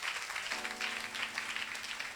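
Church congregation clapping and cheering during a prayer and prophecy service, a dense steady wash of applause throughout with a faint low hum underneath.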